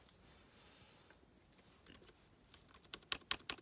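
Laptop keyboard keys pressed after a RAM upgrade, starting with faint clicks and building into a quick cluster of louder, close taps near the end, with no talk.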